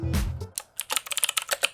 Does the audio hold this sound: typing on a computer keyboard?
yes